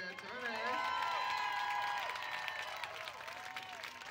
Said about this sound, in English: how about a big round of applause for MC Extraordinaire here, Tony?